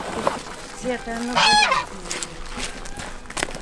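Geese honk loudly nearby in Ukraine's Kherson region, a few harsh calls with softer clucking bird sounds around them.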